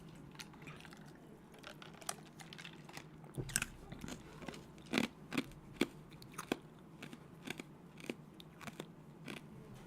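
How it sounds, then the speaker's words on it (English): Close, loud crunching of ice being chewed, a steady run of sharp crackling bites and grinding over low room noise, with no talking. "Sorry, I'm all chewing ice in your guys' ear."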